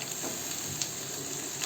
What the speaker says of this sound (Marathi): त्यामध्ये टाकूया कापलेला लाल माठ